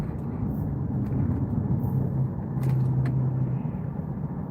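Steady low rumble of highway traffic heard from inside a truck at night around Raleigh, a continuous engine and road drone with faint passing swells and brief taps, no talking.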